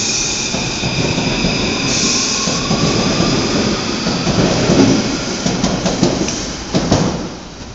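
A driverless French local rail or metro train passes close by, a loud steady rumble of wheels on track with metallic squeals and clicks rising near the end; no one speaks.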